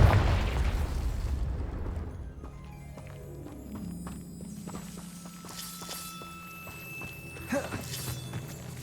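A Confringo spell explosion in the Hogwarts Legacy video game bursts loudly at the start and rumbles away over a few seconds, then quieter game ambience with tonal shimmering effects and a small pop follow.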